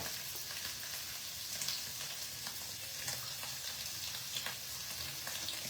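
Butter sizzling steadily in a hot pan while an omelette fries for a paneer cheese sandwich, a constant soft crackling hiss with occasional louder pops, alone without speech.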